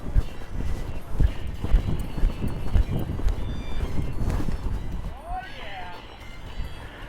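Rodeo horse hooves thudding in an irregular bucking rhythm close by, then fading into quieter arena noise, with a voice talking over part of it.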